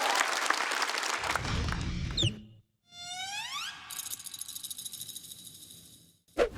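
Enthusiastic audience applause on a stand-up comedy show, a dense burst of clapping for about two seconds as a performer is welcomed onstage, followed by a rising whooshing music sting.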